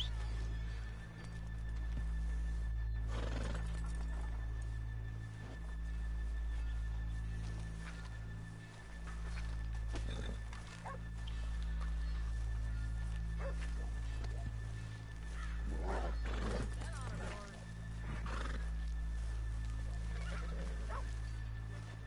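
A horse in the Red Dead Redemption II video game snorts and whinnies at moderate distance, with occasional hoof clops, over a steady low background drone with no talking.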